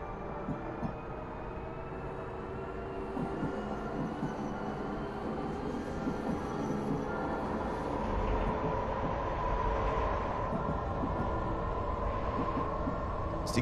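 A Frankfurt U-Bahn subway train in the TS Classic train simulator game runs along the track, a steady rumbling roll with a faint motor whine that grows a little louder toward the end.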